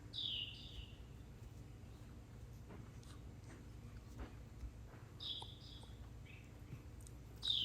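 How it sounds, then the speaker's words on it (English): A few short, high bird chirps come in brief bursts, separated by quiet stretches over a low, steady background hum, from a bird inside a garage at a memorial chapel. "there is a bird chirping in the garage somewhere"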